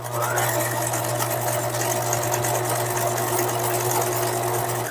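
A sewing machine runs a close-set wide zigzag scarf stitch along a doll dress, a steady fast mechanical whirr with a low hum, continuous and near for several seconds.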